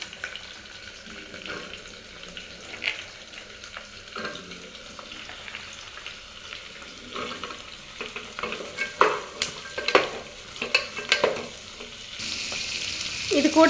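Vegetables and green chili fry and sizzle in a pan for buri kurma while being stirred, a steady close crackle with scraping stirs that grow louder toward the end, no talk.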